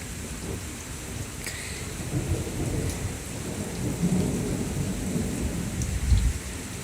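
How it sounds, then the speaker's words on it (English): Low thunder rolls faintly in the distance under steady rain during a hurricane, with a deeper rumble swelling near the end. "There's the thunder."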